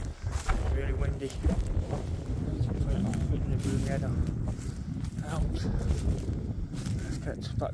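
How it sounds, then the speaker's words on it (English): Strong wind buffets a microphone outdoors at a hilltop castle site, a steady broadband roar with gusty surges under intermittent talking throughout. "It's really windy."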